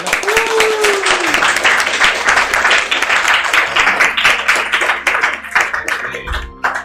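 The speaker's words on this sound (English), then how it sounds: "I think we need one more round of applause" Loud, sustained applause from a crowd at a LAN esports grand final, dense clapping throughout with a few whistles and cheers mixed in, fading slightly near the end.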